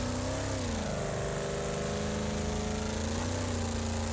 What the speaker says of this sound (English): Oh, this car sounds amazing though.